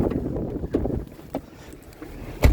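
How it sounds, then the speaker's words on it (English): Gusty wind buffets a microphone outdoors, rumbling in low bursts with a sharp loud gust near the end. "Oh, the wind."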